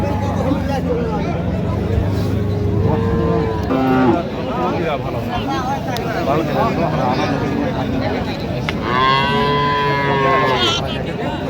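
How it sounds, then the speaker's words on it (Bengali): Dairy cows and calves at Raniganj cattle market in Dinajpur let out several loud drawn-out moos amid a dense crowd of buyers and sellers talking and haggling throughout. "গাভী বাছুর"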